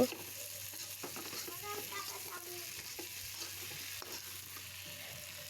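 Potatoes fry in a pan with a steady, close sizzle and scattered stirring clatter, a low hum running underneath throughout.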